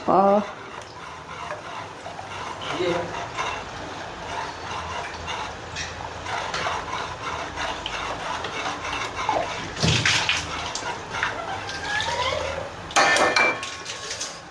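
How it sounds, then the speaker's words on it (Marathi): A spoon scrapes and clinks around a pot of kadhi, with intermittent metallic knocks over a steady background hiss; a voice talks throughout. "आपल्या ज्या कढीला आहे ना ते असं आपल्याला फिरवत राहायचं आहे चमचा"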